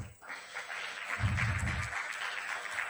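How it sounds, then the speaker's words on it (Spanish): An audience at a medical lecture on oral cancer applauds a doctor, a moderate wash of clapping that swells in after a brief pause and holds steady, fairly distant. "Por favor, un fuerte aplauso para el doctor."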